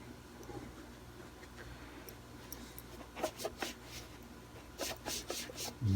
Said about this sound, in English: we'll wipe away all the fingerprints and all the dust and nonsense that's been on this guitar